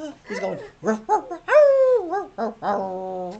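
A voice imitates a dog singing with howling, warbling yowls rising and falling in pitch, close and fairly loud.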